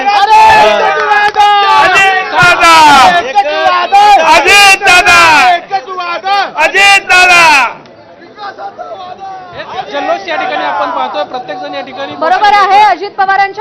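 Party workers celebrate an election result in a loud, close crowd, many voices cheering, shouting and chattering together in bursts, with a short lull before the excited din picks up again.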